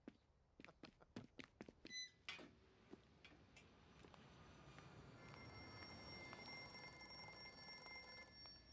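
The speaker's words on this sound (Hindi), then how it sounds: "फोन बज रहा है तेरा।" Faint clicking taps give way to a quiet electronic ringtone, a thin high repeating warble that continues over a low background hum.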